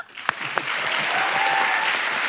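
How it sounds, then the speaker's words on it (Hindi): A couple of sharp early claps, then a comedy show studio audience breaks into full, sustained applause that stays loud to the end. "जोरदार तालियां"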